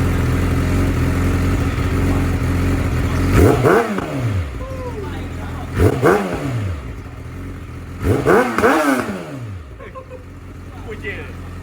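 A 350 motorcycle's exhaust revs in three sharp bursts whose pitch climbs and falls, standing out loudly over a steady engine hum.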